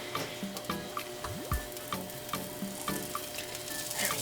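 Dropped cheese melts and sizzles on the hot plate of a Betty Crocker pizza maker, a soft steady frying hiss up close, broken by regular light clicks and taps of stirring, with no speech.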